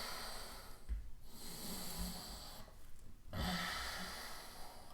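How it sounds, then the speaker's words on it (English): Slow, steady breathing during Ashtanga Vinyasa yoga practice, with audible airy inhales and exhales and soft nasal snort-like bursts at a few points, close and continuous with no talking. "Focusing on that sound, breathing."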